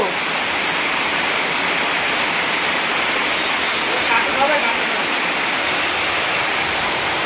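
Heavy running water gushes steadily in a kitchen, a dense continuous hiss that holds level throughout, with a voice speaking faintly over it partway through.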